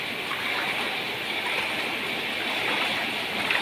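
Floodwater in a flooded Malappuram street near lodge shops flows with a steady, broad rushing wash, constant and moderately loud, with no voices.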